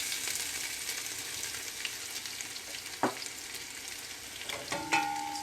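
Cumin seeds and chopped garlic frying in oil, a soft continuous sizzle close by, with a couple of brief utensil clinks toward the end.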